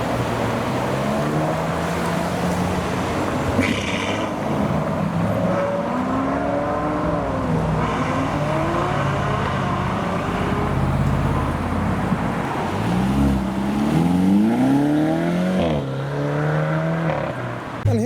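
A Ferrari 812 pulls away from a car show, its engine note rising and falling with sweeping revs that swell loudly toward the end amid general outdoor crowd and traffic noise.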